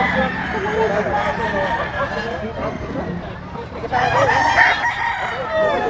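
A rooster at a gamefowl farm crows over steady background chatter and other fowl noise, with a louder crow rising near the end amid people talking.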